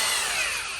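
An impact wrench runs on the rear shock nut of a Jeep Cherokee, giving a short, steady, bright whir, close and moderately loud, with no talk over it.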